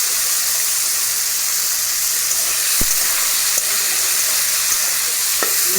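Chickpeas and lentils fry in white oil in a pan, giving a loud, continuous close sizzle with a few faint clicks of a utensil. No one speaks.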